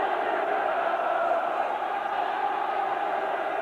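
Steady roar of a large football stadium crowd during a Norwich City versus Manchester United match, a continuous, distant-sounding wash of voices with no single standout cheer.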